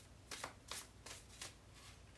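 A large tarot deck being shuffled, four crisp riffling bursts at a steady rhythm, close and fairly quiet, with no voices.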